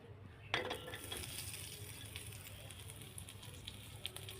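Chopped onion drops into hot oil in a tawa with a brief clatter, then settles into a steady, soft sizzle and faint crackle that continues throughout.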